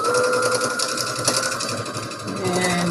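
A sewing machine runs steadily throughout, top stitching across fabric for a Christmas advent calendar, its needle hum continuous and close with a faint rhythmic chatter and no pauses.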